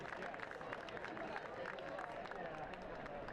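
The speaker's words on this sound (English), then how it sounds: "Gets a round of applause from the flock." A soccer crowd at a USL League One match between Forward Madison and Greenville Triumph claps and murmurs steadily in the distance, with the sound kept low under the match's background noise.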